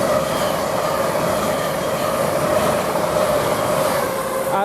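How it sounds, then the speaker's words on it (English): An LNER passenger train pulls into Grantham railway station, a steady close rumble of wheels and motors with a faint squeal running throughout, loud and unbroken. "Now we've got an LNER service coming in."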